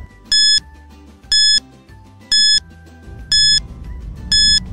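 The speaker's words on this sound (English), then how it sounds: "Your timer starts now." A quiz countdown timer gives five evenly spaced electronic beeps about a second apart, bright and loud over a low, soft musical background.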